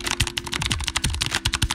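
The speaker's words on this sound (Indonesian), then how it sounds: "Biru ini tapi memang paling berisik ya." Typing on a mechanical keyboard fitted with blue switches, rapid loud clicky keystrokes in a dense uneven rhythm, close and without speech.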